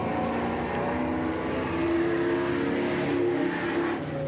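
A race car engine at Eugene Speedway in 1987 drones loudly and continuously, its pitch rising and falling slightly as it revs, with no talking.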